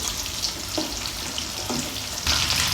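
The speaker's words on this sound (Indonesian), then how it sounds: "Tips goreng cabai biar tidak meletup-letup itu ditutupin pakai serok, kemudian pakai api yang kecil" Chili peppers fry in a pan of hot oil at home, giving a constant close sizzle with a few sharp pops breaking through and a louder burst near the end.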